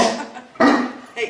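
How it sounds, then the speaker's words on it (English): Dogs barking in short bursts, a couple of loud close barks rising over a room where people are conversing. "What are they barking?"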